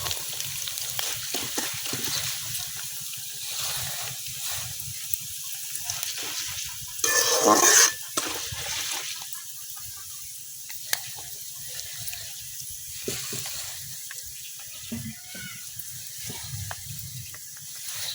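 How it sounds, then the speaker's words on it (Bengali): Dried leftover cooked rice frying in hot oil in a village kitchen, a steady wet sizzle and crackle throughout with a louder bubbling burst partway through. "তেল গরম হয়ে গেছে, এখন আমি শুকনা ভাতগুলা তেলের মধ্যে দিয়ে দেব।"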